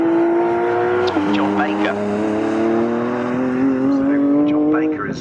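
BMW E46 race cars roar side by side at Snetterton, two engines droning steadily with pitch shifts as they pass, under continuous race commentary.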